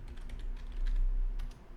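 Close, rapid clatter of keys on a computer keyboard, a steady burst of typing with no voices.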